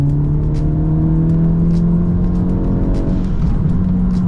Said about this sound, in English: I'll do a little downshift, get some blow off for you guys.